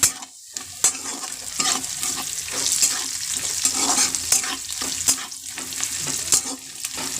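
Onions and tomatoes fry in a pan on a home stove with a continuous close sizzle, broken by scraping and clinking as a spoon stirs them.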